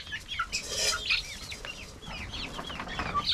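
Laying-hen chicks eating new feed, a busy overlapping chorus of soft clucks and high peeps close by, with occasional wing flutters.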